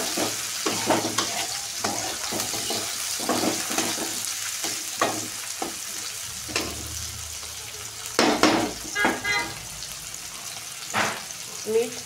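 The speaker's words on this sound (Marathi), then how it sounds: "याच्यामध्ये आपण टाकून घेऊया टोमॅटो।" Large tomato pieces drop into a hot pan for a bottle gourd (dudhi) bhaji and fry with a steady sizzle, broken by sharp clatters and knocks of stirring against the pan.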